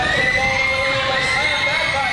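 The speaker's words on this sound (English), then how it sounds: "the crowd is just jacked up" Roller derby arena crowd roaring steadily with excited cheering and shouts, a dense wall of voices that stays loud and continuous throughout, with an announcer-like voice woven faintly into the noise.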